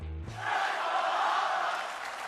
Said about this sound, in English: It sounds like the WWE Universe here in Riyadh are rallying behind Luke Harper.